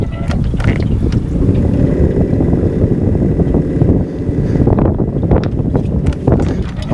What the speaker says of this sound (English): we're having some technical sound problems with our trolling motor